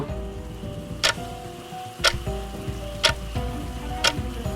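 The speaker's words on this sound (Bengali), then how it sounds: "ঘরে শুধু ঘড়ির শব্দ" A clock ticks steadily in a quiet room, sharp ticks about once a second, loud and close over a soft hiss like rain outside; no voices are heard.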